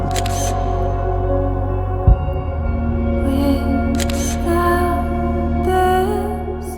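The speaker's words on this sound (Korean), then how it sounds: "이 친구도 한번 사진 좀 찍어줘야지 해가지고" A camera shutter clicks a few times, sharp and close, spaced several seconds apart over a steady low hum near a seaside in Uljin.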